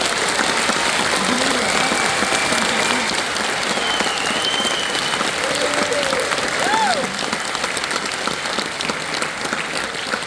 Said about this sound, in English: face the people behind you so we can give you a round of applause